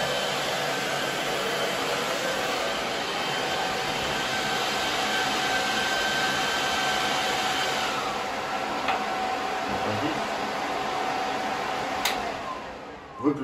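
Cooling fans run beside a New Warrior 2.0 kW air compressor, giving a steady loud whirring drone with a faint tonal whine, until a few clicks and a thump near the end.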